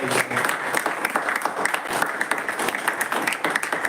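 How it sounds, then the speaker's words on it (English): Audience at a Toastmasters club meeting gives a round of applause for the speakers, close and lively clapping from a modest crowd with distinct individual claps standing out, sustained throughout with faint voices underneath. "Can we again have a huge round of applause for the speakers"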